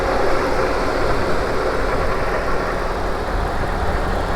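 A supercharged 6.2-liter LSA V8 in a 2011 Cadillac CTS-V Coupe idles steadily, a close, loud, even rumble with a constant mechanical hum and no talking.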